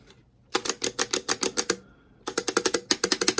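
Screws are run in with a ratcheting driver to mount a Thrustmaster SF1000 gear lever: crisp, evenly spaced mechanical clicks in two bursts separated by a short pause, close and clear with no talk.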